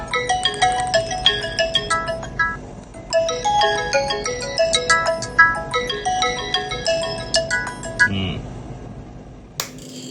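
A lost cellphone rings loudly through remote locate, its melodic ringtone repeating in bursts for about eight seconds before a short pause and a faint click.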